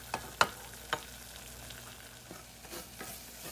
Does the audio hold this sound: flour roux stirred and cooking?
yes